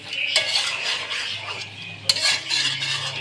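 Chicken being stir-fried in a pot for a Bengali chicken curry, a metal spatula scraping and clattering steadily against the pot with a couple of sharper knocks over a soft sizzle.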